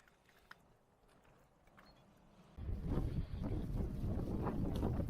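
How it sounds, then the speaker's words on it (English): Wind gusting and buffeting on a dark, windy night in Northumberland, quiet at first then suddenly loud and roaring, with rough low rumble like wind hitting a microphone outdoors. "Well, it was a windy night, as you can hear"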